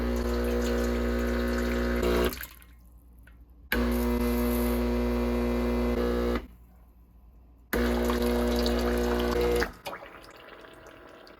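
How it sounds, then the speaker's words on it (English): A Breville Barista Touch espresso machine pumps and releases water during descaling in three long humming bursts, each ending in a sudden stop with faint dripping in the quiet gaps. "the machine will release water from the group head, steam wand, and hot water dispenser"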